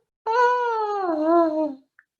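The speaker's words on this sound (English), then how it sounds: "Now let that go. Yawn." One drawn-out voiced yawn, loud and close, slides downward in pitch for about a second and a half during a group relaxation exercise, followed by a tiny faint click.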